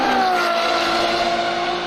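V12 Ferrari engine singing at steady high revs, a smooth harmonic wail that holds loud and unbroken for a couple of seconds without any break.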